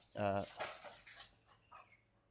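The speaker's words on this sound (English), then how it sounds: "my dog, chasing somebody. You may have heard that." Dog barking while chasing someone outdoors in the early morning, one loud bark at the start followed by quieter yelps and scattered birdsong in the background.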